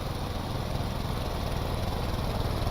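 A vehicle engine revs and drones steadily at close range for the whole stretch, with a constant low rumble and no talking over it.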